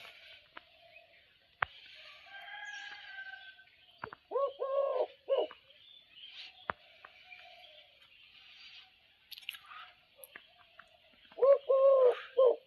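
A tame hunting dove coos in two short, rolling bouts, one near the middle and one at the end, close and fairly clear, with scattered faint chirps and clicks in between.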